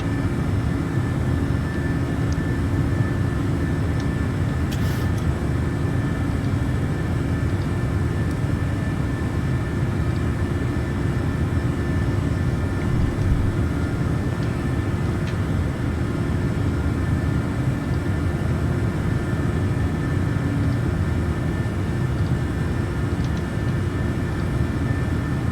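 Boeing 737NG jet engines at full climb thrust in a flight simulator game, heard as a steady loud cabin drone with a constant hum and occasional faint clicks, unbroken by speech.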